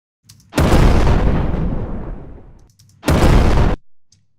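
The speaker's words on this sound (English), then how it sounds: "And I'm gonna use this explosion." A big explosion sound effect booms loud and close, its long rumbling tail fading over about two seconds, then a second shorter blast hits hard and cuts off abruptly.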